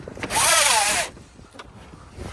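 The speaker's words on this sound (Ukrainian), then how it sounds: "Присутнє шторка, шторка працює" Cargo cover blind in the trunk of a Skoda Octavia Tour 1.6 MPI estate retracting, a loud, smooth whirring rush lasting about a second, then quiet room noise.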